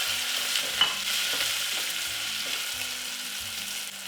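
Diced red onion sizzles in a pan with toasted whole garam masala spices, a bright, constant frying hiss with soft repeated stirring knocks underneath, close and without speech.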